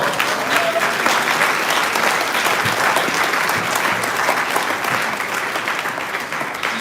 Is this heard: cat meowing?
no